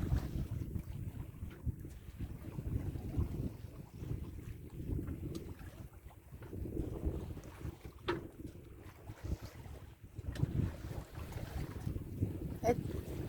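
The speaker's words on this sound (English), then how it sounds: "There is a bit of breeze." A light breeze buffets the microphone aboard a sailboat off the Dominica coast, with gusty rushing wind and soft water and hull noise rising and falling in irregular waves, fairly faint overall, with some murmured speech mixed in.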